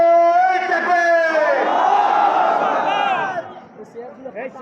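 Rally crowd at an Islamic Andolon mass gathering in Pirojpur roars the Takbir slogan in unison, a loud sustained collective shout rising and fading over about three seconds, followed by quieter murmurs.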